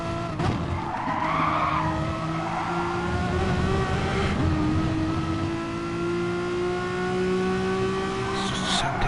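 Renault Megane Trophy race cars racing on a circuit, engines droning loudly and continuously at high revs with rising pitch shifts and tyre noise, alongside steady commentary.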